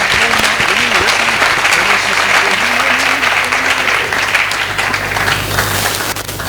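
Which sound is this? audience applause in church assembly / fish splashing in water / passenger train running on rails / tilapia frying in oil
audience applause in church assembly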